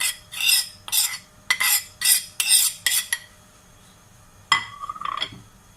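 Dry spices, tomato and beef curry are stirred in a pot with a metal spoon: six quick scraping strokes in a steady rhythm, a pause, then a sharp clink and a short scrape. Close and fairly loud, with no talking.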